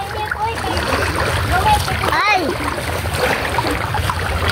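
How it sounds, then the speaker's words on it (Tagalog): Sea water splashes and washes steadily at a beach, a constant broad rush throughout, with voices of people talking over it. "Dito na kami sa dagat."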